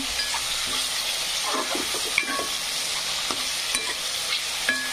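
Onion and tomato frying in a pan for a sprouted-bean usal, a steady broad sizzle with scattered scraping stirs from a spoon, close and fairly loud throughout, no talking.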